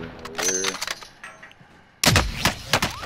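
Video game gunfire during a firefight near a quarry building, with a cluster of sharp shots early, quieter scattered pops in the middle, then a loud burst of close, heavy reports in the last second.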